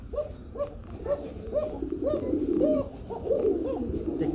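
A breeding pair of pigeons coos repeatedly at close range, soft throaty rolling calls coming in a steady rhythm over faint background noise.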